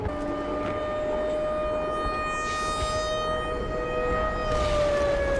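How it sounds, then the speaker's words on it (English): A steady, droning siren in the video game Black Mesa wails continuously with sustained tones that slowly drift, loud and unbroken throughout. "The siren is annoying me."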